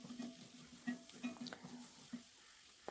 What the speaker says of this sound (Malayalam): ഇനി നന്നായിട്ട് നമുക്കൊന്ന് ഇളക്കി കൊടുക്കണം.